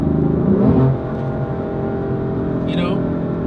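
A BMW M4 engine revs with a muscular, fruity growl heard from inside the car, a louder surge early on that settles into a steady drone while someone speaks over it.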